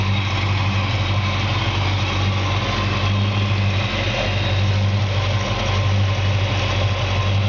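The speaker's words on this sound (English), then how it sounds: "You can just hear the car though. So clean, so nice sounding." A 1963 Galaxie 500's 352 four-barrel V8 idles steadily and evenly, a deep rumbling burble heard close up without a break and with no one talking.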